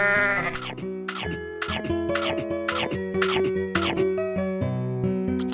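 A goat in a video game bleats again and again in a steady run of loud, wavering calls that fill the whole stretch, with no talk over them.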